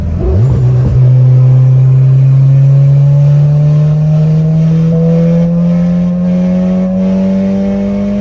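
Tuned all-wheel-drive car engine pulls hard under load, its droning tone climbing steadily as turbo boost builds, loud and close from start to finish with no talk.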